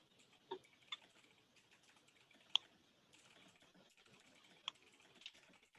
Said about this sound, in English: I'm typing this just in case you can't hear me right now.